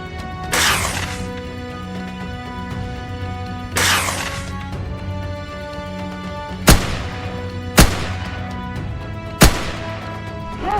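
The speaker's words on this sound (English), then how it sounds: "Fast, precise, and decisive shots ended the chaos in an instant." Hunters' gunshots aimed at a herd of wild boar, five loud sharp reports, the first two with longer rolling decays and the last three as tight cracks spaced a second or two apart, over a sustained tonal background.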